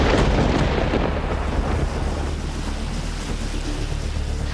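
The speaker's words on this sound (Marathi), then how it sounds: "वादळी वारा आणि विजांच्या कडकडाटासह जोरदार पाऊस झाला" Thunder rolls through an unseasonal storm with gusty wind and heavy rain in Maharashtra, a loud broad roar at the start that slowly fades into a steady rumbling wash, with no voices.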